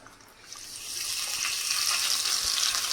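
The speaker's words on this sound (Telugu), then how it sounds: "ఇవి నూనెలో వేయించేసుకుందాం" Munjikaya bajji, battered ice-apple fritters, fry in hot oil with a soft hissing sizzle that rises after a quiet start and then holds steady and close.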